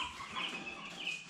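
Broiler chicks in a brooder, a brief burst of close, high peeping and chirping from several birds.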